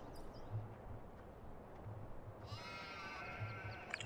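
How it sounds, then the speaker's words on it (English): Sheep bleat faintly in a farmyard in Farming Simulator 2017, a few short low calls spread across a steady background hum, with a brief higher tonal game sound near the end. "Sheep."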